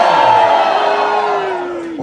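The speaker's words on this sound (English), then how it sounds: "Cheer your athletes on as loud as you can" A crowd at a lumberjack show in Ketchikan, Alaska, cheers and yells loudly, a roaring mass of voices with one long sustained shout that slowly falls in pitch.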